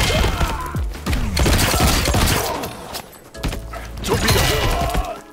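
Impacts from a Torpedo attack in Mortal Kombat 1 hit as a dense barrage of loud thuds, crashes and shattering bursts, with two heavy surges split by a brief lull.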